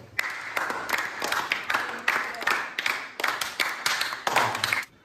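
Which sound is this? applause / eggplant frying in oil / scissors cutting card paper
applause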